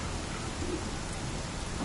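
Rain pours down steadily in the online fantasy game Skyforge, a dense, constant hiss with a low rumble underneath, heard alone without any talking.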